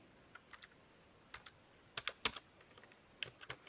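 Keys tapped on a computer keyboard while editing JavaScript code, a few irregular bursts of crisp close clicks with short pauses between, no talk.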